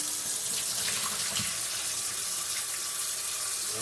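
Kitchen tap water pouring steadily into a sink while food is rinsed under it, a close, continuous rushing splash with faint shifting as the items are moved through the stream, no voices.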